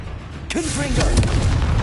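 Confringo blast spell in Hogwarts Legacy, a sudden booming burst about halfway through with a rising whooshing tail and a low rumble after it, loud and close over steady game ambience.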